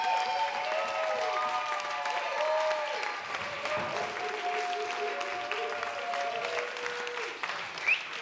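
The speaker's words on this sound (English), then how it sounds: "can you please give this guy a huge round of applause?" Wedding guests applaud together in a sustained burst of dense clapping that fills the room, steady and fairly loud throughout with a faint bright accent near the end.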